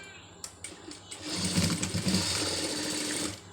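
Near and fairly quiet, a sewing machine stitches thread piping: a few short taps at first, then a steady high-pitched motor whir of continuous stitching for about two seconds.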